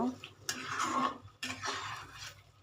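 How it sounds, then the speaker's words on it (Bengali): A spoon scrapes and clatters against a pan in two quick bursts while liver and brain curry with green chillies is stirred, close and moderately loud, over a low background hum. "একটু কাঁচামরিচ দিয়ে দিব, একটু নেড়ে নিলাম"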